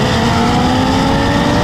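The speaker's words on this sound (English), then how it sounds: "we're gonna do a ride along with an IMS 850 here." IMS 850 Audi RS3 engine roaring loud and steady from inside the car on a ride along at a Powercruise event, a continuous, dense drone with no pauses.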